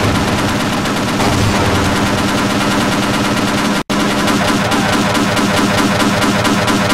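Soldiers fire continuous machine-gun bursts in the video game Half-Life: Opposing Force's boot camp, loud and dense, with rapid overlapping shots and one brief dropout midway.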